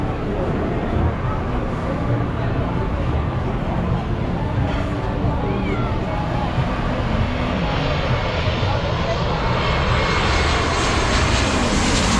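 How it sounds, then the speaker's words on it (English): A propeller airplane roars loudly overhead at low altitude above a beach near Maho Beach, its engine drone building and sweeping across the whole stretch. "where the planes fly over the beach at low altitudes"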